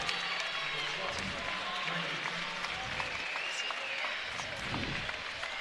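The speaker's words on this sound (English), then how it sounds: "Good applause from the fans here," Basketball fans applaud during a high school boys game as substitutes come in after a made free throw, a steady wash of clapping and crowd noise filling the gym throughout.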